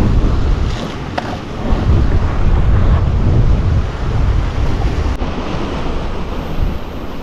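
Strong wind buffets the microphone as rough sea waves surge and crash along the rocky Jogashima shore in Japan, a loud, continuous roar with swelling surges and no voices.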